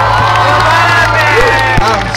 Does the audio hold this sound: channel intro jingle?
no